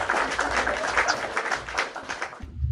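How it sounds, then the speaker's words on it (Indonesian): A small group claps at a talk show interview, a close, uneven burst of hand claps with irregular rhythm that stops abruptly near the end. "Maulan, kasih tepuk tangan dulu"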